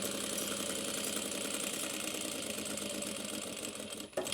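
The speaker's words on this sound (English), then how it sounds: "I'm going to be sewing at around 1/4 inch seam allowance" A sewing machine stitches a tote bag seam at a quarter-inch seam allowance, running in a fast, even rhythmic whir close by, then slowing and stopping near the end with a brief clunk.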